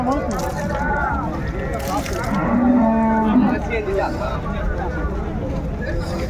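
A single drawn-out cow moo rises over a busy background of murmuring voices and outdoor bustle at Raniganj cattle market, Dinajpur.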